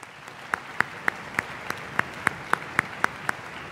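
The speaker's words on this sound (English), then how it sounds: "Dr. Jack Perry, so we can give them a round of applause." Clapping in a concert hall at the All-Philadelphia High School Music Festival concert, heard as a thin, steady run of sharp single claps about four per second, as if only a few hands are clapping. Nobody speaks.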